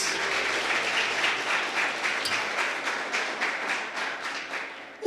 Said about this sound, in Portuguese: palmas para